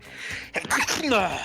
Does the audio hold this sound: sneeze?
yes